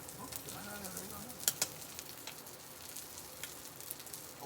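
Butter sizzling on a hot griddle while smash burgers cook for breakfast sandwiches, a steady hiss with a couple of sharp pops and scrapes midway, people talking faintly in the background.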